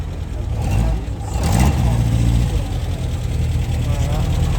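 Matra car pulling away at a classic car gathering in Versailles, a steady low engine rumble with a brief rise, under people talking nearby.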